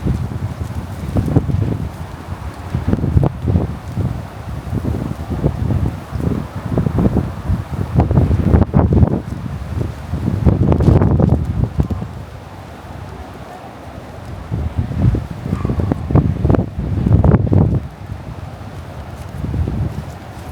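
Strong gusting wind sweeps a Gran Canaria beach during a sandstorm, buffeting the microphone in loud rumbling surges that rise and ease repeatedly, with no speech heard.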